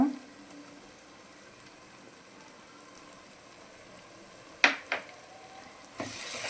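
Coconut, poppy seed and cashew paste fries in a pan as a soft, faint sizzle over steady hiss, broken by a couple of brief scraping stirs and a louder burst of sizzling near the end.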